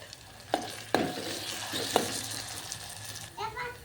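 Onion, tomato and ginger-garlic paste sizzle in a pan for a bitter gourd dish, with a few sharp clinks of a utensil against the metal over a low steady frying hiss, close and without speech.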